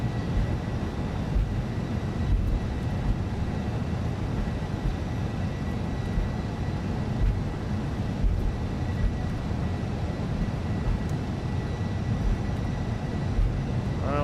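Steady low roar of a Boeing 707 rolling out after landing with spoilers and thrust reversers deployed in a flight simulator, a continuous rumbling drone with no break across the stretch.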